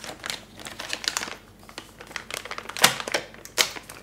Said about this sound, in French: Allez, on va le déballer tout de suite.